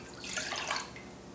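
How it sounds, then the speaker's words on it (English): Grape juice pours into a cooking pot on a stovetop, a short splashing liquid stream that swells for about half a second and then trails off into quieter trickling. "Into this pot, we want to pour 1 cup of the grape juice"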